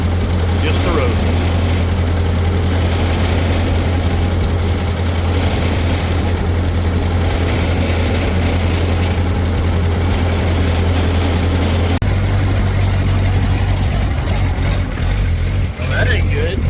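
A Ford 8N tractor engine chugs along in fourth gear at low RPM on a road, a loud, steady low rumble with a knocking pulse throughout and a slight shift in tone near the end.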